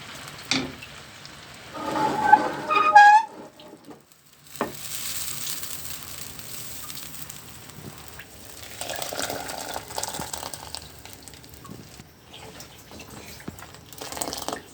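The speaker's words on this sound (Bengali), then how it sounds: "কারা কারা আমার মতো এভাবে রসুন দিয়ে ডাল বাগার দিয়ে খেতে পছন্দ করেন" Garlic tempering sizzling as it is poured into dal, a brief loud crackle around the second and third seconds followed by a softer, steady low sizzle that continues to the end, with no talking.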